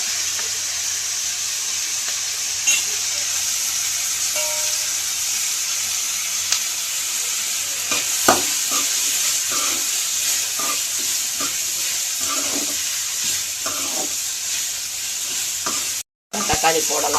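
Sundakkai (turkey berries) stir-frying with salt in a pan for a chutney, giving a steady close sizzle throughout with scattered scraping stir clicks and brief pops, no voices.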